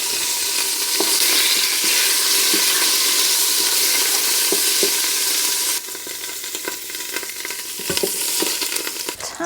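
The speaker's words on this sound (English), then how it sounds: "This is the last batch to saute off." Pork sizzles steadily in a Ninja multi-cooker on its sauté setting, a loud continuous frying hiss with scattered pops and stirring scrapes, dipping slightly partway through.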